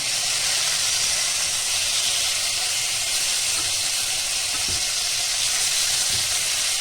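Chicken frying in a pan for a sandwich gives a continuous, even hiss and sizzle throughout, with no clear breaks. No one speaks.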